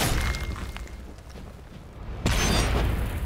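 A fire flask explodes during a For Honor execution: a loud, close burst that cuts in suddenly after a stretch of rumbling combat noise, then a sustained roaring, crackling blast with no talking.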